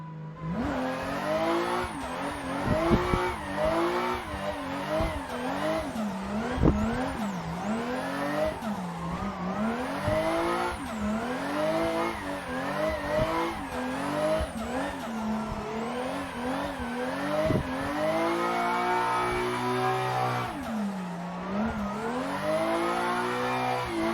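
Simulated car drifting in Assetto Corsa, with a loud, continuous engine revving up and down and tires squealing through the slides. The engine pitch rises and falls as the car moves from tighter to wider lines.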